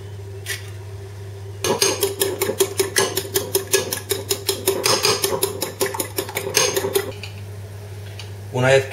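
Eggs beaten briskly in a bowl for garlic soup, a fast run of sharp rhythmic clinks and taps from the whisk or fork against the dish, close and steady for several seconds before stopping.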